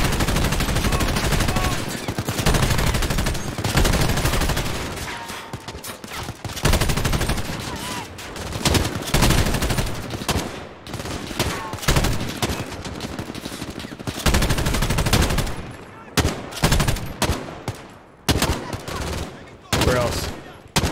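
Machine gun fire in Call of Duty: Modern Warfare rattles in dense, loud bursts almost without pause, with brief gaps and hints of voices underneath.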